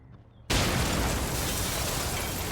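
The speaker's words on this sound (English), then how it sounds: "the sound of explosions rocked the neighborhood" An explosion in a city neighborhood erupts suddenly from near-silence into a loud, sustained roaring rumble that keeps going to the end, heard alone with no voices.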